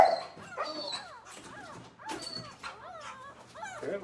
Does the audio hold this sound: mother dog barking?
yes